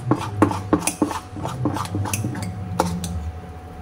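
Wheat kheer being stirred in a pot: a spoon scrapes and knocks against the metal in quick irregular strokes, close and fairly loud, with no talk.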